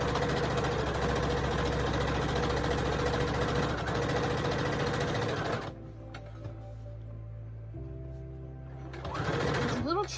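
A sewing machine stitches an oven mitt in a fast, steady mechanical chatter, then stops, leaving a quieter pause before a short burst of stitching resumes.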